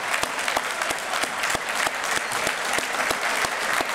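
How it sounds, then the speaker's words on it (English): Dense crowd applause for the mayor at a men's breakfast meeting, loud and sustained with rapid overlapping claps and a few sharper hand claps standing out throughout. "Give the mayor a thunderous round of applause."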